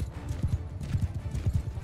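Horse hooves clip-clop in a rhythmic trot during a battle in the video game Mount & Blade II: Bannerlord, loud and close with steady repeated beats.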